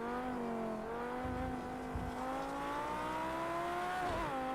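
A race car engine in Project Cars 2 drones steadily at a high, buzzing pitch, rising and dipping slightly as it shifts, with faint tire and track noise underneath and no talk.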